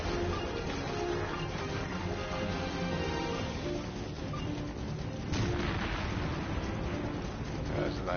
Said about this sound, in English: That was a nice fiery explosion.